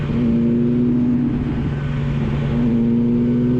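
A 600cc sport motorcycle engine holds a high, steady whine at strong revs, loud and close, with a constant droning tone and no voices.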